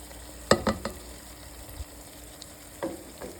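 Ivy gourd stir-fried together with fried onions: a low pan sizzle with a cluster of spoon scrapes and knocks near the start and a few more later, with no talking.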